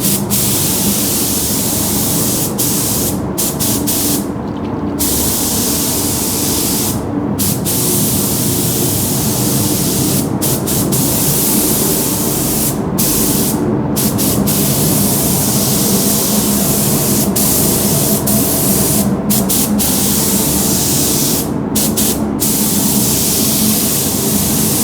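Aerosol spray paint hissing onto a Traxxas Maxx RC car body shell as a light dust coat, a steady loud close hiss broken by several short pauses between bursts.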